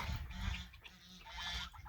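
Turkeys give faint, distant gobbling and clucking calls in short bursts outdoors, quiet and low in level with no talk over them.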